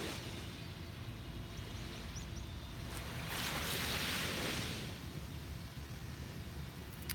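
Ocean waves wash onto a beach in a soft, continuous rush, swelling briefly into a louder surge midway before settling again, with no voices.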